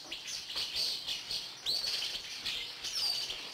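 Lovebirds in a pet shop give a series of bright, sharp chirps and tweets, several overlapping calls at moderate loudness with no talk.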